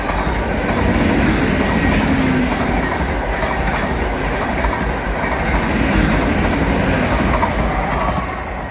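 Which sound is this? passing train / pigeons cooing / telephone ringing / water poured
passing train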